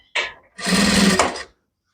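A sewing machine stitches kimono jacket fabric from the wrong side: a brief first burst, a pause, then a steadier run of about a second, close and loud with no talking.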